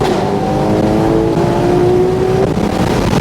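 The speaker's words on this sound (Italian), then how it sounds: "Ora sentiamo questo cambio marcia" A Ferrari 12Cilindri Spider accelerates hard in third gear, its engine note rising steadily and loud before a sharp upshift into fourth cuts the pitch, heard from close by without talk.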